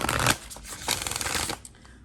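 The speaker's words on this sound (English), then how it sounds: "So let me shuffle these cards really quickly" Cards are riffled and shuffled in quick crisp bursts, close up, trailing off into a softer flutter at the end.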